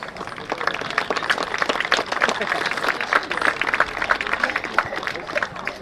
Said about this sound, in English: how about a big round of applause for the officials?